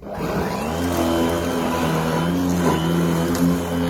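Bosch AdvancedRotak 750 electric lawn mower with a steady motor hum that rises and dips slightly as it works rough ground, continuous and close with no talk.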